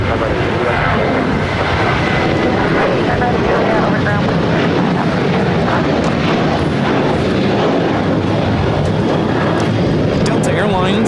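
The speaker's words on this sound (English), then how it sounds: "Delta Airlines 2120 taking off to Las Vegas on the 737-800" A Delta Airlines Boeing 737-800 takes off from LAX bound for Las Vegas, a loud, sustained jet roar filling the air with voices talking over it.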